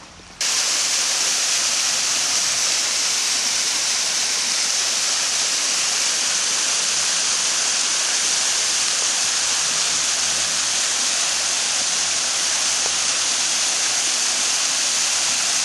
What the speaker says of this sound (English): There's actually a little waterfall up here that I know of